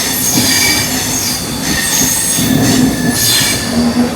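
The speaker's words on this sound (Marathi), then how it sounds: "लोकल जाते." A Mumbai-area local train passes near Panvel station with a loud, continuous rumble, squealing wheels and high metallic screeches on the rails, close and dominant throughout.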